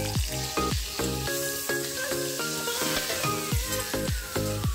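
Sliced pointed gourd fries in hot oil with salt and turmeric, giving a steady, close sizzle that runs throughout, with a few sharp clatters of utensils against the pan and no talking.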